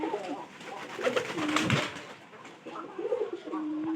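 Pigeons coo in low, throaty bursts, close by, with a rustle of wings and background bird chatter.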